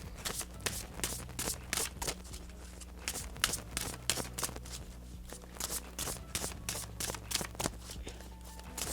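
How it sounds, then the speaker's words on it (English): Tarot cards shuffled and pulled from a deck: a steady run of quick, crisp riffling flicks, close and fairly loud, with a faint low hum beneath and no talking. "let's pull one last card from here"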